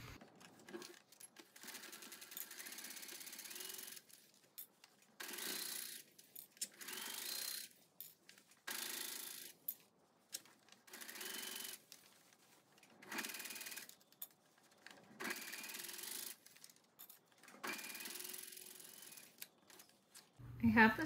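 Sewing machine stitching a sleeve seam on a shirt jacket in repeated bursts of rapid mechanical whirring separated by short pauses, with quiet handling noises in the gaps.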